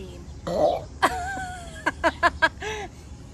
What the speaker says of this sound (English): You just burped.